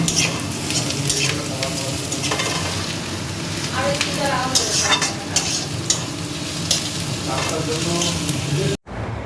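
Marinated meat cooking in a pot for biryani, a steady close sizzle and frying hiss with intermittent stirring scrapes, continuous throughout before cutting out briefly near the end.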